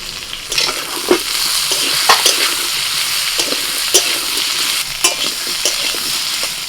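Fried potato and papaya with cumin, turmeric and ginger paste stirred in a hot pan, steady close sizzling punctuated by a regular series of sharp spatula scrapes and taps, no voices.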